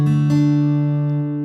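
A single piano note or chord struck, then a second note pushed up from the first like a guitar hammer-on inflection; sustained tones ringing alone and slowly decaying, close and clear.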